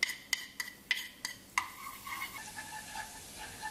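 Garlic sautéing in pork fat in a pan for Vietnamese braised pork with shrimp paste, a soft sizzle punctuated by several sharp clinks of a utensil against the pan early on, then quieter steady frying.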